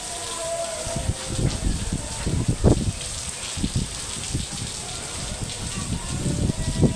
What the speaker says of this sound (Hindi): ये है जी धुआंधार बारिश, बहुत ज़्यादा बारिश